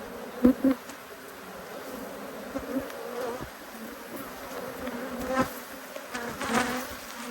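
Bees from a defensive hive buzz around an opened box during an inspection, a thin steady drone with a few sharp close passes early on and again near the end.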